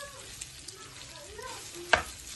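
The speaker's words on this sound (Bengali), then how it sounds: "আরো 2 মিনিট আমি ভালো করে ফ্রাই করবো।" Noodles fry in a wok at home with a soft, continuous sizzle and one sharp clatter of a utensil against the pan near the end.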